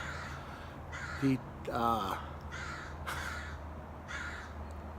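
A crow caws loudly nearby several times in irregular bursts, one call briefly overlapping a voice, set against a steady low hum in the background.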